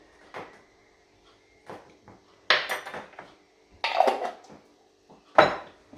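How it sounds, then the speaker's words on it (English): A spoon clatters against a bowl in several sharp, separate bursts while tandoori spice marinade is stirred, with brief quiet gaps in between; close and fairly loud, no talking. "Again, give that a nice mix."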